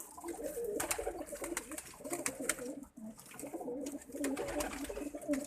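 Pigeons coo repeatedly in a loft, their soft, low, rolling calls overlapping in a steady chorus with faint wing flutters and small knocks, fairly quiet and close throughout.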